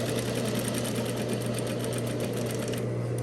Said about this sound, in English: wrong sides together and I'm stitching at 3/8 of an inch seam allowance